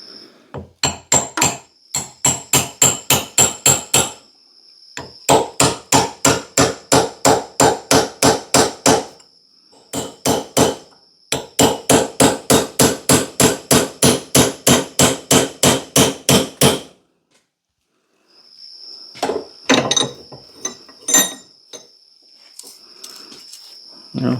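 Rapid bursts of sharp metallic hammer blows strike a bolt used to drive the head off a Diamond Eye double bit axe, falling in long rhythmic runs separated by short pauses, loud and close.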